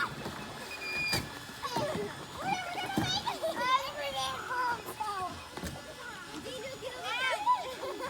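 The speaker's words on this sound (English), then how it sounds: "River and all the kids out there kayaking." Children talk and shout with splashes and paddle knocks as kids kayak on a river at a Santee Cooper camping spot, with voices close and continuous over watery sounds.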